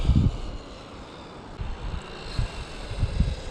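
Rlaarlo Omni Terminator RC car on a stock drivetrain with a 24-tooth pinion on 3S, motor at full throttle outdoors: a steady loud whine and rush with gusty wind buffeting the microphone.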